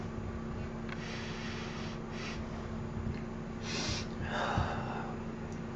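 Fine-ground nasal snuff sniffed up the nose in a few short, sharp breathy sniffs, the strongest two in quick succession near the end, close and alone over a steady low background hum.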